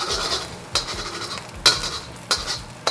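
A utensil scrapes and taps against a pan while an egg is broken up for Taiwanese fried rice noodles, giving sharp metallic clinks about once a second over a soft background sizzle.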